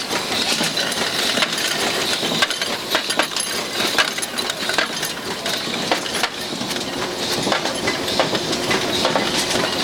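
A coin counting, weighing and paper-roll wrapping machine runs nearby at a copper-coin mint. It makes a dense, continuous clatter of jingling coins and mechanical ticking with no pauses or talk.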